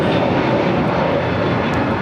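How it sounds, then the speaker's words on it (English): A Delta Airlines Airbus A321neo takes off from LAX for Tampa. A loud, steady, close jet roar fills the brief moment, with no voices. "That was Delta Airlines flight 749 taking off to Tampa on the A321neo."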